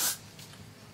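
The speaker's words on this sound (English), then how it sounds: "Get you some spray." Hair spray blasts onto a natural 4c afro with clip-in hair, a single loud hissing burst at the start that quickly fades into quiet room noise.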